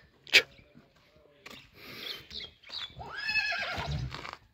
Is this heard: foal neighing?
yes